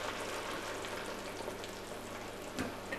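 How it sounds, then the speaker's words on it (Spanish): Beer boils in a frying pan for a mustard sauce, giving a steady, soft sizzle and bubbling hiss that runs evenly throughout with no talk. "Veis como la cerveza ya está hirviendo"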